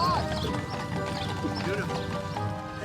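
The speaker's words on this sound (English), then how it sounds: "Ronald Reagan edged his horse forward." Horses walking on a royal ride, hooves clip-clopping in an irregular steady rhythm close by, with faint jingling tack and mechanical rattles under a continuous background bed.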